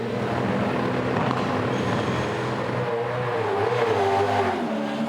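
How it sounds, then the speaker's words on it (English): A Supercars V8 race car launches during night practice at the Sydney SuperNight event, its engine roaring loudly and steadily throughout, with the pitch climbing and wavering as it accelerates. "Yeah, a little bit too much wheel spin, wasn't it? Especially in the first segment."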